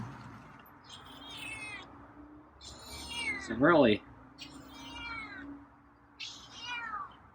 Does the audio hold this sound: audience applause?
no